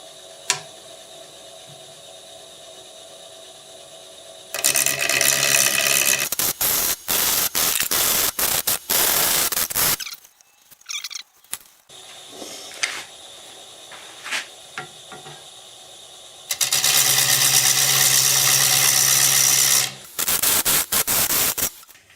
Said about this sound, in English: Let's see how this 1/2-inch bowl gouge works out.